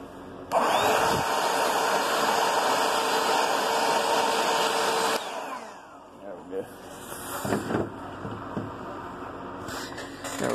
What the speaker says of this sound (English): Vacuum that off real quick.